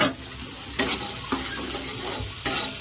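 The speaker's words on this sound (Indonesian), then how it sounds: "Kita tumis sampai bumbunya berbau harum, sampai terminyak gitu ya, sampai keluar minyaknya" Spice paste sizzles and is stirred in a pan with bay leaves, lemongrass, lime leaves, turmeric leaves and asam kandis for a gulai with fern tips and shrimp. Steady close frying comes with a few spoon scrapes and no talking.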